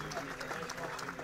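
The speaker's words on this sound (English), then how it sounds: "cheers, rounds of applause from the fans here on both benches, all fans" Fans at an NCAA Division III college football game, Hope versus Albion, applauding and cheering from both sides of the field, a steady crowd roar with a commentator's voice running over it.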